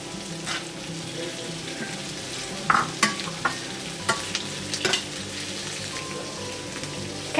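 Cabbage with half-softened onions frying in a pan for shrimp fried rice noodles, a steady moderate sizzle broken by several sharp scraping and clattering stirs of the utensil against the pan.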